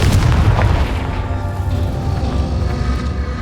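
A single loud booming Confringo fire spell blast in the video game Hogwarts Legacy, striking hard at first and then fading into a sustained low rumble.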